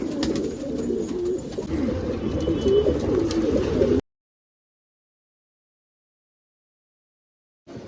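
Low, rolling pigeon coos repeat continuously for a few seconds, close and clear, then cut to silence.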